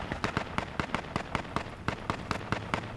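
Rapid bursts of small-arms gunfire in the survival shooter H1Z1, a steady string of about a dozen sharp, evenly spaced cracks, moderately close and loud, with no talking.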